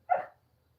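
A single short bark from a house dog, close and fairly crisp, followed by quiet.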